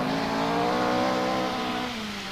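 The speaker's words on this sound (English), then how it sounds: "And urging her Quattro Sport repeatedly to its rev limiter, Michel Mouton is restored to the fray" A 1984 Audi Quattro Sport rally car engine howls near its rev limiter on the RAC Rally, a loud, sustained high-revving drone that holds steady and then eases slightly in pitch toward the end.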